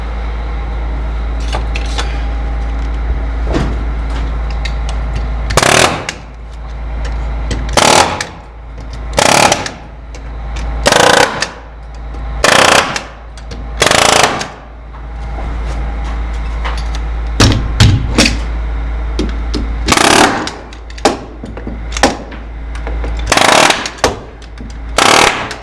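Hangers being installed at an attic access, with loud, sharp bursts of a power tool driving fasteners at irregular intervals over a constant low hum.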